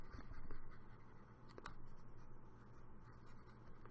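A pencil drawing and erasing on paper makes a faint, close, continuous scratchy rubbing that swells and eases in short strokes, with no talking.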